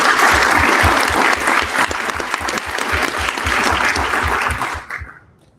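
Audience at a live congressional district Democratic debate breaks into loud, sustained applause that fills the room for about five seconds, then thins and fades out at the end.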